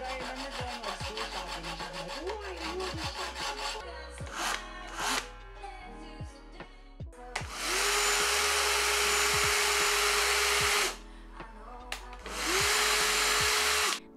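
A sewing machine stitches a fabric curtain in a home cosplay room, starting with short uneven bursts and then settling into long, steady, loud whirring runs with a brief pause between them.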